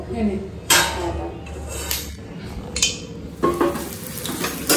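Luchi deep-frying in hot oil in a home kitchen, a bubbling sizzle broken by several sharp clinks and scrapes of a utensil against the pan, with a voice talking over it.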